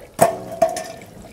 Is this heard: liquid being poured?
yes